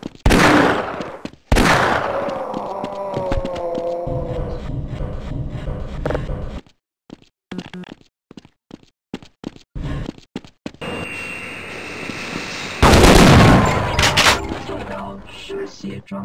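Gunfire aimed at alien grunts in the video game Half-Life, with several loud, sharp shots in separate bursts through the clip between quieter stretches, mixed with game sound effects.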